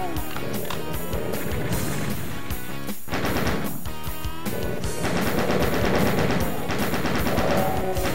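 Rapid bursts of gunfire from the video game Doom, The Plutonia Experiment, on the Ghost Town level, firing loudly and continuously in dense overlapping volleys with a short pause near the middle.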